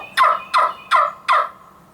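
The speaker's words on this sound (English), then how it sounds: "I use 4 to 6 segments in the sequence of yelp." A wing bone turkey call plays a yelp sequence: four sharp, evenly paced raspy notes, close and loud with nothing else behind them.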